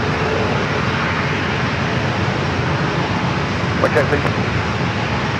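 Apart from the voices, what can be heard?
Boeing 737 Max 8 rolling down runway 27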